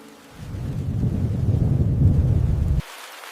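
Violent storm around a hummingbird nest, a heavy low rumble of thunder and downpour swelling for a couple of seconds, then cutting off abruptly to quiet.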